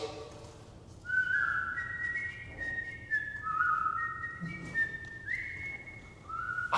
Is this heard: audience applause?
no